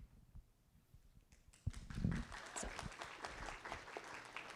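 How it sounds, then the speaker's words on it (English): Applause from attendees at a school district board of trustees meeting, starting after a quiet moment and continuing moderately loud and steady, recorded from some distance in a meeting room. "She deserves that round of applause."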